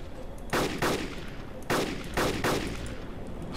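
Several sharp gunshots fire in two quick pairs in a video game, each crack echoing briefly, over a steady background rumble.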